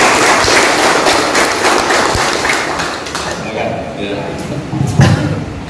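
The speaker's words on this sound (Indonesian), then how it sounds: "Ya, tepuk tangan untuk ini." Audience at a youth tourism gathering clapping for a prize winner, a loud, dense burst of many hands close by that slowly thins and fades, with a few thumps and voices mixed in.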